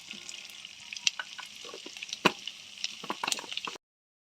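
Caraway, cinnamon and fennel frying in melted butter, a soft close sizzle with quick spatula scrapes and sharp clicks against the pan, ending abruptly.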